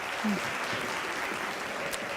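Dense clapping from a crowd, a steady wash of applause with a voice briefly speaking over it.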